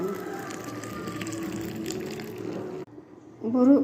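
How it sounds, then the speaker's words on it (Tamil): Coffee poured into a tumbler, a continuous liquid gush close by that stops abruptly, followed by a brief bubbling gurgle at the end. "காப்பி டம்ளரில் ஊற்றிக்கலாங்க"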